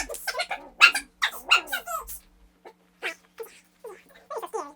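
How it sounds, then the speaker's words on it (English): Several dogs bark and yip in quick, close bursts in a home, with a cluster of loud barks early on and then scattered smaller yelps. "Sorry, folks, the dogs."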